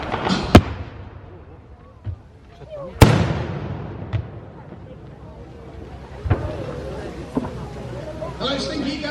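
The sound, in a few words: gunfire and explosions in a wartime battle display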